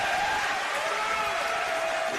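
A basketball crowd at a women's semifinal between Sutherland Sharks and Camden Valley Wildfire cheers and claps in a steady, noisy wash, fairly loud and continuous throughout the short moment.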